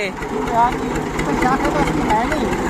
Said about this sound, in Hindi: तो हम ना इधर ट्रैक्टर पे गांव की सैर कर रहे हैं